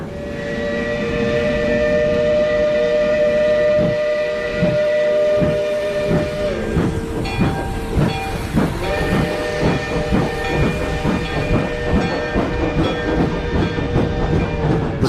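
Steam locomotive hauling a special train away from a coal and iron mining district, its long steady whistle tones sounding over a continuous hiss and rhythmic clanking wheel beats that carry on after the whistle shifts pitch and fades.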